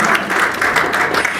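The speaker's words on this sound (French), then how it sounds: "Est-ce qu'on peut applaudir?" A short burst of lively audience clapping at a French-language panel event, dense and steady throughout.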